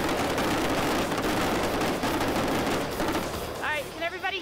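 Blank gunfire effects on a film set, dust balls fired into the ground to mimic ricocheting bullets, a dense rapid crackle of shots outdoors, followed by a few whistling, chirping sounds at the end.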